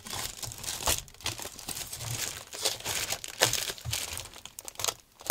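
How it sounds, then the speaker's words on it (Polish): Protective plastic film on Commodore 64 packaging being peeled back and carefully cut, giving close crinkling and crackling rustles in uneven bursts with a few short tearing sounds. "Także ja tutaj troszeczkę folię odchylę. Będziemy tak delikatnie przecinać."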